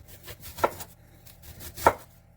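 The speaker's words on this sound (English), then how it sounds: "cut them in slices" Two firm knife strokes chop through an onion held flat on a board, each a distinct close thud with a short crunch, spaced about a second apart in a quiet room.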